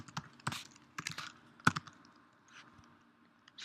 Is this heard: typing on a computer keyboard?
yes